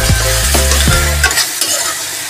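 Cauliflower and capsicum stir-fried with spices in a hot pan: a spatula scrapes and stirs in a few quick strokes over a steady, close sizzle, with no voices.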